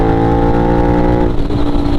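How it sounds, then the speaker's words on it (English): A Suzuki SV650 motorcycle engine pulling hard at around 80 mph on a night ride through New York City, a close, loud, steady droning hum whose pitch shifts partway through the brief burst. "What this bike is basically a very nice sounding sound machine."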